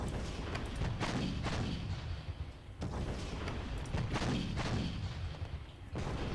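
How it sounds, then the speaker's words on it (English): Artillery pieces firing in a World War I strategy game set in East Prussia, 1914, heard as a series of loud booming blasts with rolling rumbles and crackling gunfire, several shots spaced across a few seconds. "we'll grab our 2 artillery units and then fire"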